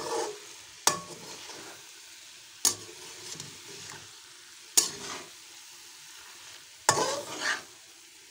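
Carrot halwa frying and drying out in a pan while being stirred, a steady soft sizzle broken by sharp scrapes of the spoon against the pan roughly every two seconds.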